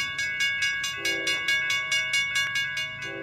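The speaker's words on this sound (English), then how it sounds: "All right, we got a train coming." A railroad crossing's electronic bell rings in a fast, steady rhythm, loud and close, as a Union Pacific freight train approaches a crossing in Altamont, Illinois.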